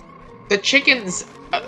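Chickens in an Ocarina of Time Randomizer game produce frog-like croaking calls: a few short, bright, warbling bursts close together, followed by one more after a pause, clear and fairly loud over faint game background sound.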